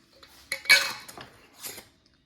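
A regular metal lid clinks onto a glass jar of hot sauce made from dried peppers: a few short, close clatters and scrapes, brief and then quiet.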